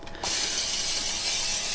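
A brief moment of quiet, then a continuous hissing spray from an aerosol can of palm oil cooking spray over potatoes in an air fryer, steady and close for over a second.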